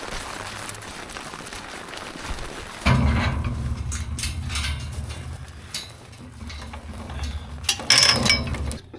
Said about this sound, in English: Pump needs to warm up